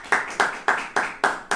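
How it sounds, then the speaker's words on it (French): Church congregation clapping in a brisk, even rhythm, six sharp claps spaced about a quarter second apart, close and fairly loud. "On applaudit Jésus."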